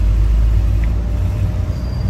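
City buses rumble past on a street in Nîmes, France, a loud, steady low engine drone with traffic noise and a faint hiss, without speech.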